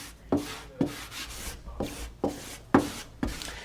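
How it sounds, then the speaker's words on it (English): A squeegee smooths a vinyl checkered stripe decal onto a Toyota 4Runner or Tacoma with short, firm rubbing strokes. Six close swipes repeat roughly every half second with no talking over them. "Squeegee this one out."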